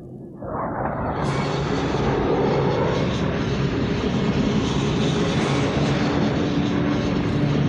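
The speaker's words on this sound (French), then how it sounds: "Avion civil, pavillon américain." A civil airplane flying overhead, its engine roar swelling in over the first second, then holding as a loud, steady broadband drone that carries on without letup.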